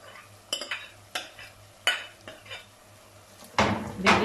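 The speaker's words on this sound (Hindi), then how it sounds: "भिंडी शामिल करके अच्छे तरीके से हिला लेना है हल्के हाथ से।" A spoon stirs okra into fried masala in a pan, scattered metallic clinks and scrapes up close, then a louder burst of sizzling and scraping toward the end.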